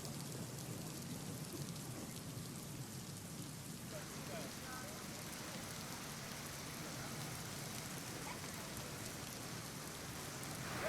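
Heavy rain falls in Ratnagiri, a dense, steady hiss of downpour on surfaces that holds throughout at a fairly low level, without a break.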